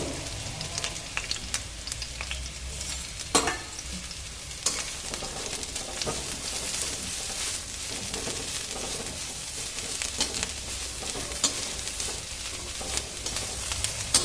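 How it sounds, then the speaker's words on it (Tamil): Bitter gourd frying in hot oil in a pan for chutney, giving a steady, dense sizzle and crackle that runs unbroken from start to finish with no voices. "எண்ணெய் சூடாகிய பின் பாவக்காவை அதில் சேர்க்கவும்."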